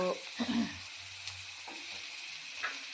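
Steady soft sizzling of food frying in a pan, with a few brief stirring scrapes and clinks over the continuous hiss.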